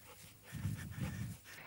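A dog panting close by in a quiet room during a training session, a short run of soft rhythmic breaths lasting about a second.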